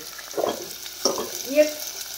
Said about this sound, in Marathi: चांगलं 10 मिनिटं टोमॅटो आणि कांदा मोठ्या गॅसवर छान परतून घ्यायचं।